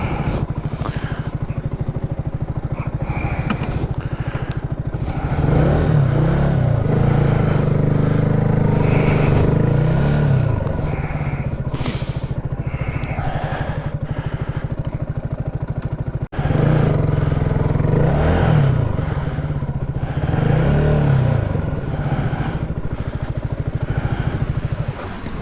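A motorcycle engine idles loudly up close, cuts out briefly, then is restarted and settles back into a steady rumbling idle, with some clattering and scraping around it.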